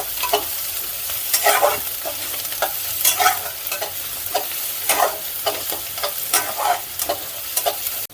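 Sliced onion, already turned pink, frying in a pan with a spoonful of crushed ginger and garlic for a Goan-style coconut prawn dish, a steady sizzle broken by repeated scraping stirs at a fairly regular pace, close and clear with no talking.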